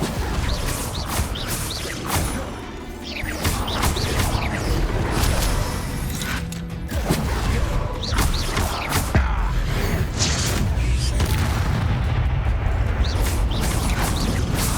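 Spell blasts from Confringo and Incendio in the Hogwarts Legacy video game sound as a dense run of whooshes, crashing impacts and booming bursts layered over game music and effects. It is loud and continuous throughout.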